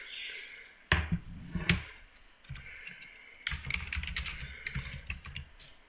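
Fingers type an Excel formula on a computer keyboard, with quick clustered key taps and a couple of louder strikes, heard up close.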